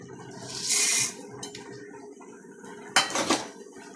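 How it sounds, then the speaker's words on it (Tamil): A burst of hissing sizzle as tempering spices hit hot oil for Tamil kali, with clinks of metal utensils against a pan, then a second sharp sizzling crackle. "நான் அந்த தாளிக்கிற பொருளெல்லாம் போடுறேன் பாருங்கள்."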